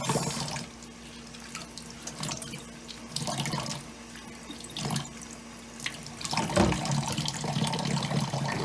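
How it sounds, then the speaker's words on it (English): Running tap water splashes into a kitchen sink as an onion, green pepper and green onions are rinsed, a steady stream broken by louder bursts and shifting splashes as the vegetables move under the flow. "we're gonna rinse the onion real quick. And meanwhile, we're just gonna rinse the pepper, the green onions."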